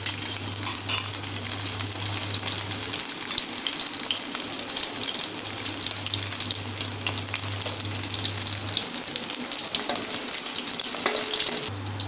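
Onions sizzle and crackle in hot sesame oil, a steady, close frying hiss that carries on without a break.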